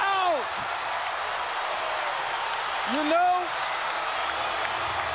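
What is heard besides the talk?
basketball arena crowd cheering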